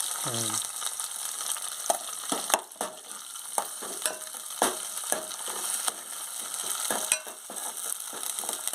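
Green chillies and curry leaves fry in hot oil with a steady sizzle, broken by repeated clicks and scrapes of stirring at an uneven pace, moderately loud and without speech.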